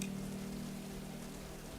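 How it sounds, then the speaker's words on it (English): Steady rain falls on surfaces in a video game area, a dense continuous hiss with a low drone underneath, constant and moderately loud throughout. "It's like always raining in this area."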